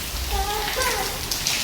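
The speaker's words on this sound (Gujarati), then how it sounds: "અને આવો દીધો વરસાદ ધીમી ધારે ને ચાલુ થઈ ગયો પાછો." Light, slow rain falls steadily in rural open country, a soft continuous patter with faint tonal sounds drifting in the background, no one talking.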